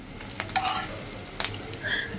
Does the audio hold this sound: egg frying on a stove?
yes